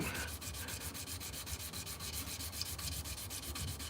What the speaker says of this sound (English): So right now I'm at 600 grit, and it's looking good